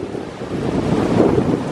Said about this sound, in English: super windy out, so we won't be doing a lot of surfing.